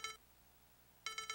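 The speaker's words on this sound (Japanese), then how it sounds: "携帯電話が着信を告げた。" A mobile phone rings in the video game Hayarigami 2, two short electronic ring bursts separated by a pause, clear and fairly quiet, with no talk.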